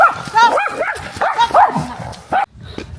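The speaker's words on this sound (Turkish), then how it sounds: "Ay geliyor bir köpek geliyor dur." A dog barking and yipping in the dark outdoors, several sharp barks and whimpering yelps in quick succession, fairly close, with a voice briefly mixed in.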